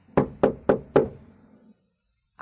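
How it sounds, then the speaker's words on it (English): Four firm knocks on a door in quick, even succession, close and fairly loud, followed by a pause of silence and then a brief sound at the very end. "So I knocked again."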